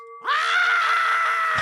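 A loud scream sound effect: a single sustained, high-pitched cry that rises sharply and holds steady for over a second, standing alone without talk.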